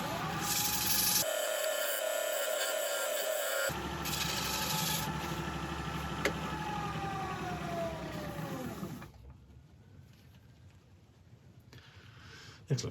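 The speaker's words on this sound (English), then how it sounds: "I'll still sand this first" Hand sanding a wooden bowl on a woodturning lathe gives a steady, close, abrasive rubbing hiss with a constant whine for about nine seconds, then drops away to quiet room noise.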